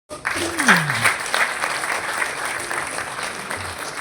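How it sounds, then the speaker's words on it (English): An audience at a public health forum breaks into steady, full applause right after a brief voice, the clapping continuing evenly to the end. "A round of applause, please"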